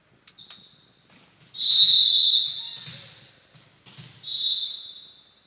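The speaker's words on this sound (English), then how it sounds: "And we got a whistle here" Referee's whistle during a junior varsity girls' volleyball match, a long shrill blast followed by a second shorter one, with faint gym noise and ball thumps behind.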